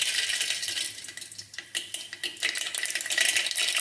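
Mustard seeds spluttering in hot oil for a vegetable tempering, a dense close-up crackle of rapid tiny pops with faint metallic clinks of the pan, no voices.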